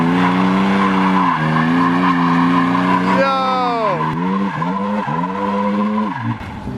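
An R32 Nissan Skyline GTR drifts in a parking lot, its engine droning loudly with a long, wavering tire squeal that rises and dips through several slides, close and continuous with no talk.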